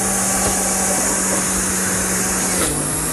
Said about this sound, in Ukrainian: О, січкарня.